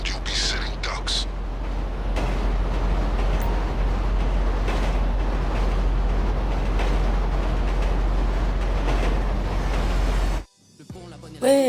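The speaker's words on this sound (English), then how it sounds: "You need to keep that train moving at all costs." A train rolls along in GTA V with a loud, steady rumble and a deep, constant hum that carry on without a break for about ten seconds before cutting out abruptly, and a voice briefly follows.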